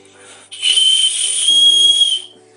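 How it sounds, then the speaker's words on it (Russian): A shrill, piercing whistle blast from a plastic survival whistle sounds once, held steady for under two seconds, loud and close, with a faint hiss. "Довольно-таки громко свистит."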